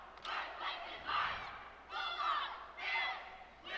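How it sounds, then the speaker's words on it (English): A coed high school cheerleading team at a state competition shouts a rhythmic crowd cheer in unison, four loud chanted bursts echoing in a large arena. "Coming out now with a crowd cheer using palms and signs."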